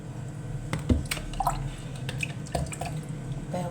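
Water poured into a mixing bowl for homemade bread dough, heard as a close, steady splashing and dripping with small wet spatters throughout, with no talking.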